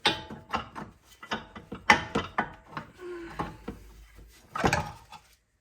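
A ratchet turning out the control arm bolts during an upper control arm and rusty ball joint removal, a series of sharp close clicks in uneven bursts with brief pauses.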